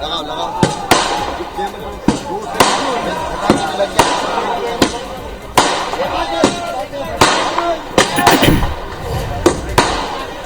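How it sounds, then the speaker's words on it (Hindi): Fireworks set off in celebration outside a BJP party office crack in a rapid, irregular string of sharp bangs, with a crowd chattering and voices underneath. "भारतीय जनता पार्टी दफ्तर के सामने आज आतिशबाजी की गई।"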